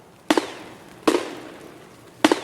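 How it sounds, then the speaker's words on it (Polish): Three sharp gunshots ring out at a distance in Escape from Tarkov, each with a short echoing tail, spaced unevenly over a couple of seconds. "No słyszę strzały, ale nie widzę nic."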